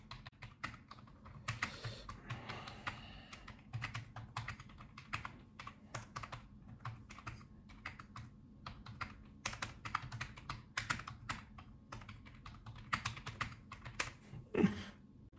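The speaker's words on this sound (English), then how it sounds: "And let's type with a keyboard." Typing on a Silvercrest SPCC 2 A1 wireless computer keyboard, a steady run of close, crisp key clicks with uneven rhythm and a few louder strikes near the end, heard alone without talk.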